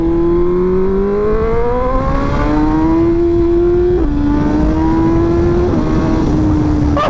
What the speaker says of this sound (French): Le moteur s'anime, la ligne droite